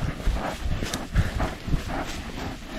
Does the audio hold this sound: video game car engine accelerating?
no